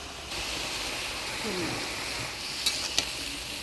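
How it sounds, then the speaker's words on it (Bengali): Taro leaves (kochu shak) with slit green chilies sizzle steadily in a pan while being stirred, a continuous close frying hiss with a couple of sharp scraping clicks near the end. "কাঁচা লঙ্কা দিয়ে ভালো করে নাড়িয়ে নিলাম"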